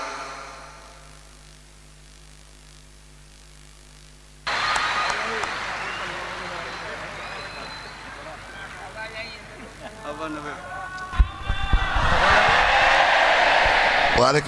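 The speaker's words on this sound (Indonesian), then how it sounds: "Tepuk tangan sekali lagi buat beliau, Kiai Anwar Zahid." Audience applause for Kiai Anwar Zahid rises abruptly after a quiet stretch and continues as a dense, steady clatter of many hands, with voices mixed in and a louder surge near the end.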